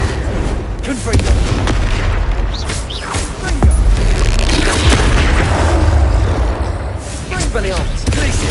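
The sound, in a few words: Confringo fire-blast spell explosion from Hogwarts Legacy video game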